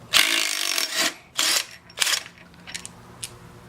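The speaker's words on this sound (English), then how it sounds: "we're gonna pull this pulley off" Scraping and grinding bursts of a hand tool pulling a pulley off a shaft during a build, several close, sharp rasping strokes separated by short pauses, with fainter clicks toward the end.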